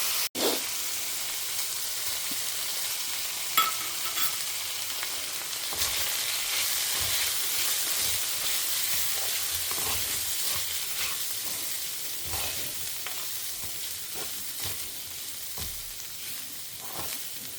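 Food sizzles and crackles steadily in a hot pan, a continuous close hiss with occasional stirring knocks throughout.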